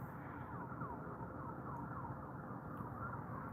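Faint emergency vehicle sirens wail in the distance over a steady low rumble of traffic on a highway, rising and falling continuously, with no voices.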